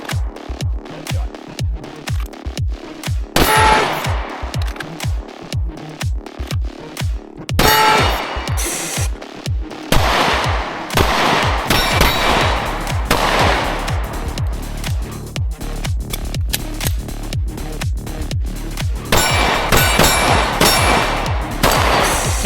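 Staccato C2 pistol fired in quick staccato strings at steel targets about 8 yards away, drawn from concealment; loud, sharp reports come in rapid bursts with brief pauses, some followed by faint metallic ringing.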